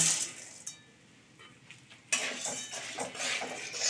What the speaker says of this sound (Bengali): এবার ঘিয়ের মধ্যে তুষিটাকে ভালো করে ভেজে নেব